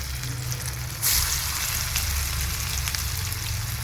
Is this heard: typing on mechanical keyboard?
no